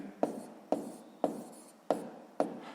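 Pen strokes on paper while working a 6th-grade math problem, five quick scratchy bursts repeating at a steady half-second rhythm, close and fairly quiet, with no voices.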